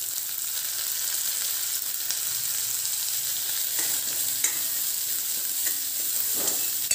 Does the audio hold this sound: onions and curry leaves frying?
yes